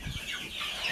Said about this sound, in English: The rooster might be crowing.